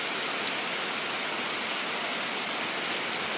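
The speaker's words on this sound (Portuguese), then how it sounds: "Chuvinha abençoada, hein?" Rain falls on a rural farm in Pará, Brazil, making a dense, even hiss that holds steady throughout, close and continuous with no voices.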